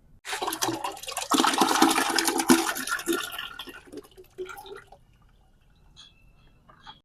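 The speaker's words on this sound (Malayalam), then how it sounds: "ഈ കലക്കി വെച്ച ചാണകം ഒരു ലിറ്റർ ഗോമൂത്രത്തിൽ കലക്കി വെച്ചിട്ടുള്ള ഇത് നമുക്ക് ഇതിലേക്ക് ഒഴിച്ചു കൊടുക്കാം" Cow dung mixed into cow urine is poured into a batch of organic fertilizer, a loud gushing splash lasting a few seconds that tapers into trickles and drips.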